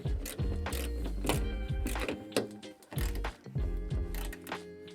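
Close ratcheting clicks in repeated bursts as trunk pull mod hardware is tightened on an S550 Mustang, each run of rapid metallic clicks separated by short pauses, with no talk.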